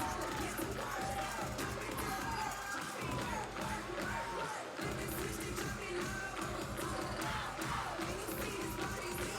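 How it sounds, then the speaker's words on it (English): Crowd at a cheerleading world championship singing along and cheering, a dense, continuous wash of voices and yells filling the arena, loud and sustained with brief dips, with commentary talk mixed in. "You could hear the crowd singing "Pow Pow" with them in their dance"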